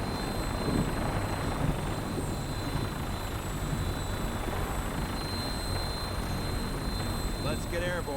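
A Fallout 4 vertibird engine drones steadily up close, a loud continuous rotor-and-turbine rumble with a thin high whine layered on top, holding at an even level throughout.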